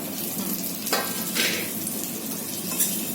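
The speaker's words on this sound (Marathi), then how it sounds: "फ्राय केलं ना तेलामध्ये तुपामध्ये साजूक तुपामध्ये फ्राय करून घ्यायचा" Vermicelli frying in pure ghee, a steady close sizzle with a few brief scrapes of stirring over it, short and moderately loud.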